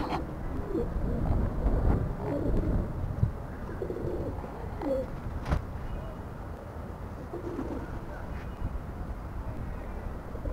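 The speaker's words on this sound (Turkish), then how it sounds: "Bizim kuşlar hala uçuyor yukarıda." Domestic pigeons coo softly and repeatedly over a low, rumbling outdoor background, with a few faint wingbeats and other bird sounds.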